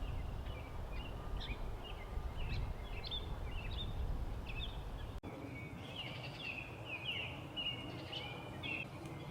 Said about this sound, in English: Here's one more new warbler species, a male yellow warbler. They are breeders at Horn Pond, and right now they're singing constantly